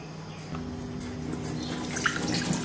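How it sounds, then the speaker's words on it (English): Vegetables being washed under running water, a light steady trickle with drips and splashes close by, quiet and without speech. "You want to make sure you wash your veggies."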